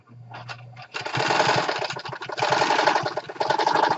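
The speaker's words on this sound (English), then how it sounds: "This here sewing machine is probably old as Methuselah, but it still sews." An old sewing machine whirs into motion after a low hum, running steadily with a fast mechanical clatter, loud and close.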